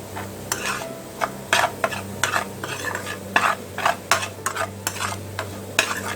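Beetroot kichadi ingredients frying in a pan while being stirred, a continuous sizzle broken by rhythmic scraping strokes of a spoon against the pan, close up and without speech.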